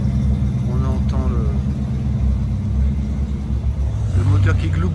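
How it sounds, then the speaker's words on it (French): A Porsche 959 Paris-Dakar rally car idles with a low, steady burbling rumble on a city square in Paris, the engine drone continuous throughout while people talk nearby over it. "le moteur qui glougloute"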